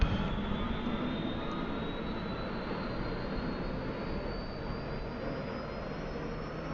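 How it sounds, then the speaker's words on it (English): Turbine starter of a UH-1H helicopter in the DCS flight simulator spinning up, a steady broadband whine and rumble with a slowly rising high tone, constant and moderately loud throughout. "starting to spool up the starter"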